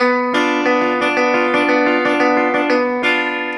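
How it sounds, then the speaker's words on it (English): Rapid, rolling picked notes on an electric guitar ripple in a continuous stream, bright and close, with a slightly processed tone. "some other elements which I call banjo rolls, which sound like this."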